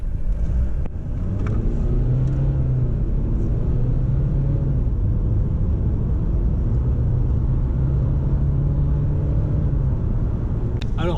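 Steady low engine drone and road rumble from a car driven from a right-hand-drive seat in Ireland, continuous and close throughout, with faint voice-like traces under the noise.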